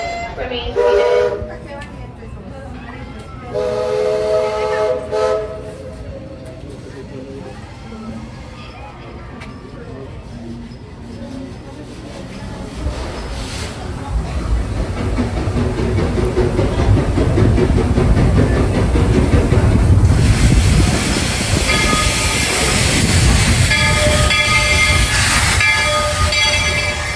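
The Walt Disney World Railroad steam train at the Magic Kingdom drawing into a station, its chuffing and rumble building louder toward the end, with a whistle tone, while a recorded announcement voice speaks over it.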